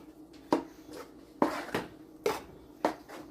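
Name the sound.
mixing moi moi ingredients in a bowl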